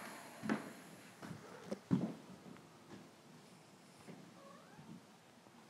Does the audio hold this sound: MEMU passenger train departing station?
no